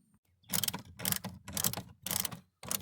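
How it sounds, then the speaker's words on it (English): A ratcheting tool drives glove box screws into the dashboard of a 2018 GMC Sierra, giving close, crisp clicking bursts in a steady rhythm of about five short runs. "And all we have to do now is install these screws."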